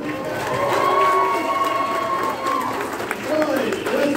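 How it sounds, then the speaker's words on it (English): Crowd of convention-goers at a horror fan event cheers and applauds loudly, a dense continuous roar of clapping and shouts with voices mixed in throughout. "Another round of applause."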